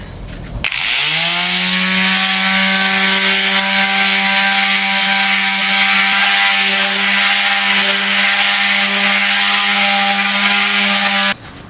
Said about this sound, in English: I'm gonna achieve this by, well, grinding a lot of it out